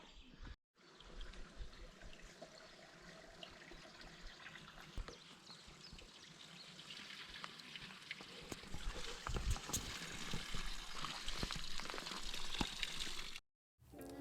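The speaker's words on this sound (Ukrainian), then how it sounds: "Набравши воду з джерела" Spring water trickling and splashing at a mountain source on a hike up Khomiak, a steady close wash of running water throughout with occasional knocks and handling noises.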